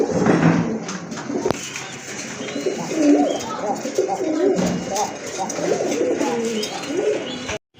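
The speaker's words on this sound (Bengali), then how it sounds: "এখানে আরেক জোড়া কবুতর দেখতে পাচ্ছেন, রাজগোল্লা কবুতর" A pair of Rajgolla pigeons coo in soft, repeated rolling calls close by, with other birds in the coop calling underneath and a voice talking over them.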